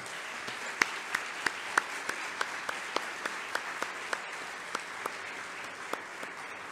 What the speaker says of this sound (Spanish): Recibamos con un aplauso a la doctora Rosa María Torres Hernández.